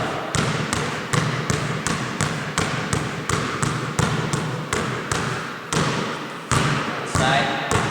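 A basketball dribbled rapidly on a hard court during a summer workout drill, pushed forward then pulled back, giving a fast, even run of loud, close bounces with a couple of brief pauses.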